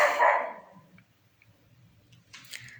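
Agitated dogs at night give one loud, close growl-bark at the start, followed by faint low rumbling and a few scattered small noises under a quiet background.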